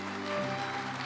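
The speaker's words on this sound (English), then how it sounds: "kindly welcome the laureates with a round of applause." Brief, steady burst of audience applause at the Japan Prize presentation ceremony, a dense wash of clapping lasting about a second.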